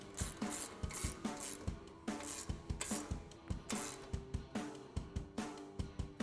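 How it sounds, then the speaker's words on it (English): A ratchet with a 21 mm socket tightens a bolt on a RAM 1500 coil-over suspension lift, giving a steady run of close, rapid clicking strokes in regular repeated bursts. "we're gonna tighten out with our ratchet with a 21 millimeter socket and 13/16 wrench"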